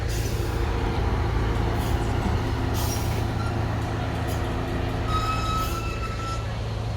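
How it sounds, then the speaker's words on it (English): A train pulls into a station on the Brighton line near Three Bridges, Balcombe and Haywards Heath. Its steady low rumble stays loud throughout, with faint high squeals from wheels or brakes toward the end. "There's another train coming in."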